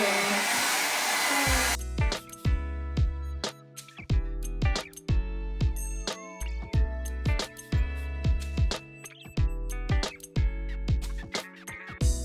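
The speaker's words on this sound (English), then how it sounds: "So, it's not bad for a travel hairdryer, is it?" A T3 Featherweight Compact travel hairdryer blows in steady bursts, switching on after a quiet start and cycling on and off repeatedly, loud and close with no talking.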